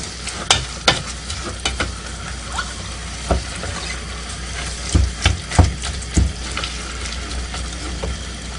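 Ground meat for chili browns in a pan with a constant moderate sizzle, punctuated by several sharp scraping and tapping knocks from a utensil stirring it, no talk over it.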